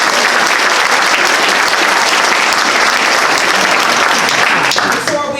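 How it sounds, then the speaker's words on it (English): Loud, dense audience applause fills a hall at a school scholars' recognition event, sustained clapping from many hands that tapers off near the end. "Before we give them a thunderous round of applause"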